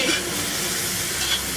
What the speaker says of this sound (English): Let's toss it for another 15 seconds, and this is done.